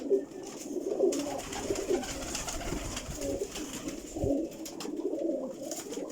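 Pigeons cooing in a high-flying pigeon breeding loft, several overlapping low throaty coos repeating nearby with some rustling.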